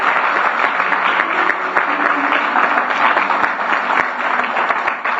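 Sustained applause from a church congregation during a sermon, a dense, even roar of many hands clapping for several seconds with a slight dip near the end.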